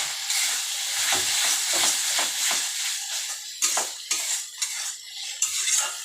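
Chili powder spice mix for ghugni is stirred in a pan, with repeated metal spoon scrapes and clinks over a low sizzle, the strokes growing sharper and more spaced toward the end.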